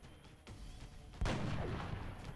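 A single loud gunshot goes off in XCOM: Enemy Unknown, a sudden sharp blast that settles into a rumbling tail. Quieter thuds come before it over low background noise.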